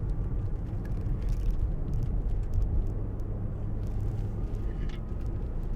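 A 2005 Jaguar XJ 2.7 TDVi Executive diesel saloon climbs a hill over a bumpy road, its engine a steady low rumble under road and tyre noise from inside the cabin, with faint knocks from the rough surface.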